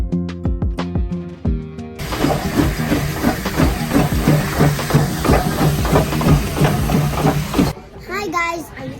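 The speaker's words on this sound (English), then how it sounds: "we're in an old steam train" An old steam train at a heritage park in Calgary chuffs and hisses loudly with rhythmic puffing, while a voice and other chatter are heard nearby.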